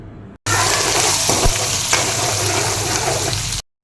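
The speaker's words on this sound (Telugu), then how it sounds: "ఎండుమిర్చిని కూడా ఇలా కట్ చేసుకొని వేసుకొని ఒక 2 మినిట్స్ వరకు ఫ్రై చేసేసుకోవాలి" Dried red chillies and curry leaves fry in hot oil for a tamarind pulihora, a loud, steady, dense sizzle that starts abruptly and holds evenly throughout, with a few brief stirring scrapes and no voices.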